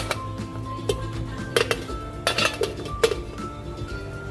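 A metal lid set onto a cooking pot of pork rib sinigang with okra and kangkong, several close, bright clinks and rattles in a short burst, with no talking.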